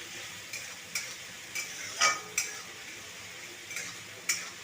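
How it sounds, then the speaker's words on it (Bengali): Tomato and ground spice paste frying in a pan after browned onions, with a steady soft sizzle and several sharp scraping stirs of a spoon against the pan, close and moderately quiet. "পেঁয়াজটা লাল লাল করে ভাজা হয়ে গেছে, এবার দিয়ে দেবো টমেটো কুচি আর বেটে রাখা মশলাটা"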